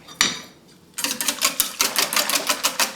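A whisk beats milk into a bowl of whisked eggs and flour with fast, regular clicking strokes against the bowl, loud and close, after a brief pause at the start.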